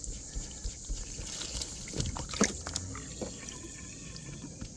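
Water gushes and trickles steadily from a fitting on an inflatable hot tub being repaired for leaks, a fairly quiet continuous splashing with a few louder surges and no talk.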